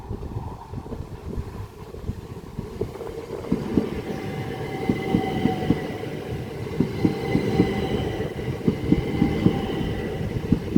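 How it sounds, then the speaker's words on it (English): A London Charing Cross to Ashford International passenger train crosses over a junction at Swanley, with steady rolling rumble and repeated rhythmic wheel clacks over the points, close and continuous throughout. "here's the London Charing Cross to Ashford International service, which will be crossing over at the junction"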